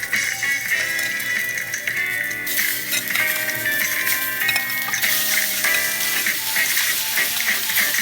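Chicken wings frying with garlic in a pan give off a steady, bright sizzle throughout, with faint clinks and stirring noises layered on top and no voices.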